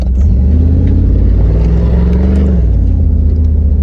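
Z/28 Camaro accelerating hard: a loud, close engine roar builds and climbs in pitch, then eases off toward the end.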